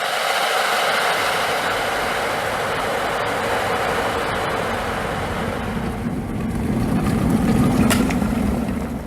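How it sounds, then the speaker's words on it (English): A kettle boils with a continuous rushing hiss and bubbling roar that swells louder toward the end, alone and close. "There's glory in a kettle boiling."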